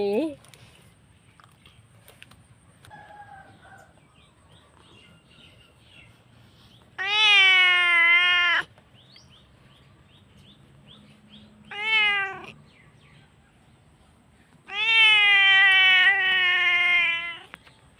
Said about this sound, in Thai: แมวกลัวหนี